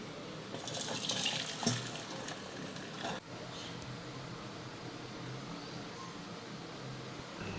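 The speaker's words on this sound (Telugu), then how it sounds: "ఇప్పుడు వీటిని ఒక జాలీలో వడగట్టుకోవాలండి." Boiled corn kernels drained through a strainer, water rushing out in a steady close pour that is loudest at first and then settles into a continuous flow.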